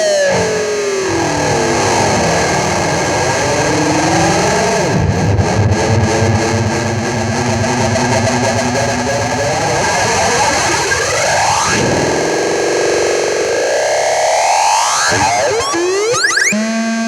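Loud, chaotic distorted guitar through a Splinter twin effects pedal, with sweeping pitch swoops, warbling modulation and noisy, siren-like squeals that rise and fall continuously.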